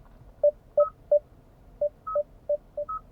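Alert tones from a Kia Sorento hybrid's driver-assistance system, a series of short, clean electronic beeps in an uneven rhythm, some pitched higher than others, clear and close with no talking.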